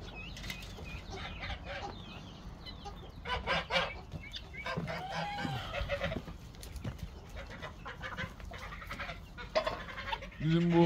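Chickens on a farm, including a black hen, cluck and call from a coop among other poultry, with wing flaps and bird calls scattered throughout at moderate distance.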